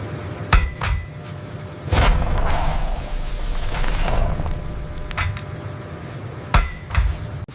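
A 15,000-ton hydraulic press forges an engine crankshaft in a massive forging plant, giving loud sharp metallic bangs and clanks near the start and end around a sustained heavy rumbling roar in the middle.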